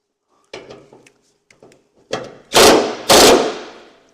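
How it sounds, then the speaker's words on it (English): DeWalt impact wrench driving the bottom bolt on a 1967 Mercury Cougar front end: a few light clunks and taps, then two short, loud, rattling bursts close by, one after the other. "That way I can take my block out and get my impact in the bottom bolt."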